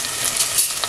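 Chopped onions fry in about four spoons of hot oil, giving a steady, close, even sizzle with faint crackles and no voices.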